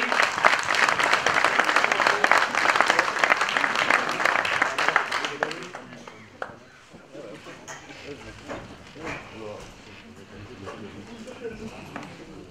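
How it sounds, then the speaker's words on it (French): Loud crowd applause for about six seconds, then fading to scattered claps and murmuring voices. "vous pouvez l'applaudir aussi"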